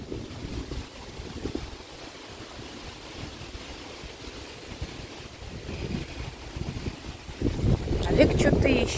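Wind gusting by Lake Parshino near Samara, a steady low roar and buffeting against the microphone that swells louder toward the end, with faint voices in the background.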